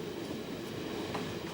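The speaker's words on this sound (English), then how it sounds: "steam locomotives can still be seen, hauling endless freight trains" A freight train in northern China rolls along the rails with a steady rumbling drone and faint wheel clatter.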